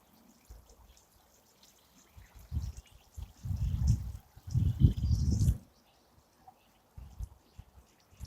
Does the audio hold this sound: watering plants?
yes